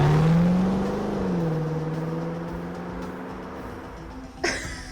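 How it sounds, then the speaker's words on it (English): A car engine rumbles and revs at close range, its steady drone slowly fading as it pulls away, ending with a brief sharp noise. "the car started and drove past me."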